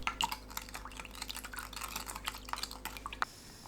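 A spoon clicks and stirs through a sauce of water, soy sauce, mirin, sugar, grain syrup and gochujang being mixed, giving quick close taps and wet swirls in a rapid irregular rhythm before stopping abruptly.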